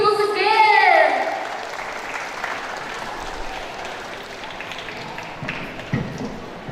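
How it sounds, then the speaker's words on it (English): An audience applauds after a student's speech at a school speech contest, a burst of clapping that fades to scattered claps, with a spoken voice at the start. "Give her a big applause again."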